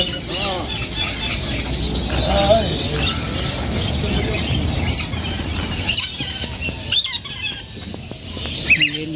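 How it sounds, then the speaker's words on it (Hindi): Lory parrots squawk and chirp amid a busy bird market in Kuwait, with many birds calling continuously at close range and some louder squawks standing out over a steady crowded background. "ये लोरी हैं, लोरी बर्ड्स हैं।"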